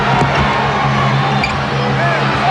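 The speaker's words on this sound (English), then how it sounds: "Hear the reaction from the crowd here at the Summit." A packed basketball arena crowd at the Summit, during the 1995 NBA Finals game between the Houston Rockets and Orlando Magic, roars and boos in a steady, loud wave of reaction.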